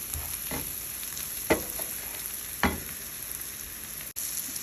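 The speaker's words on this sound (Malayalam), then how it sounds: "1 മിനിറ്റ് ഒന്ന് വഴറ്റിയെടുത്താൽ മതി കേട്ടോ." Ground roasted masala sautéing for mutton curry gives a soft, continuous frying sizzle, broken by three or four scraping strokes of stirring, with no talk.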